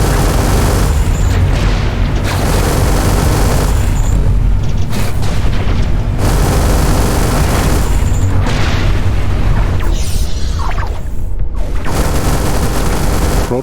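Constant loud booms and weapon fire in the space shooter Everspace 2, heavy blasts and bursts overlapping without pause.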